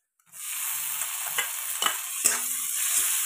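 Tomatoes dropped into frying masala for baingan bharta, raising a loud steady hiss of sizzling oil, with a few scraping stirs of a spoon across the pan, close and without speech.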